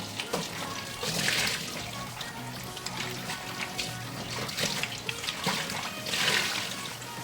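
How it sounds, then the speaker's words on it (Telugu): Tap water runs and splashes steadily as dried fish is washed in a kitchen sink, with faint surges of splattering against the fish and bowl. "నీరు వచ్చినంత వరకు కడుక్కోవాలండి అప్పుడు బాగుంటుంది"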